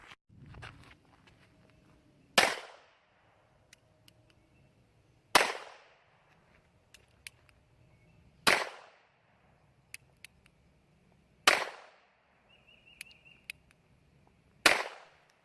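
An NAA Mini .22LR pocket pistol firing single sharp shots, five of them about three seconds apart, close and cracking over quiet outdoor background with faint handling noises between.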